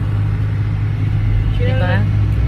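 Heavy road traffic of trucks and cars near Antipolo, a steady low engine rumble filling the background, with a voice briefly rising over it near the end.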